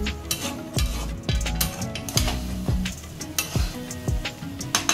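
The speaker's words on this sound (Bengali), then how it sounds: "ভালো করে মিশিয়ে নিতে হবে চাল ডালের সঙ্গে মশলাগুলো" Rice and lentils with spices, salt and slit green chillies are stirred in a pan for bhuna khichuri. Close, steady scraping strokes repeat about twice a second over a soft sizzle, with no talking.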